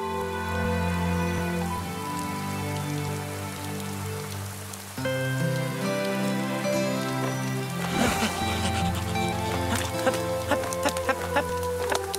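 Rain falls in an animated animal cartoon. A dense, steady patter of drops swells in over a sustained musical score and grows louder and busier in the last few seconds, with no voices.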